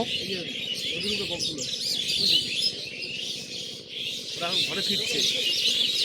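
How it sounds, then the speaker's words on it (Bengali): A dense chorus of birds chirps and twitters near a river, with steady high calls carrying throughout at moderate distance and someone speaking softly underneath. "পাখির কলকাকলি"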